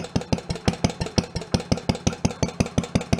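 A homemade tractor engine recovered from under a house, idling with its air cleaner off, a close steady chugging beat of even, regular firing pulses.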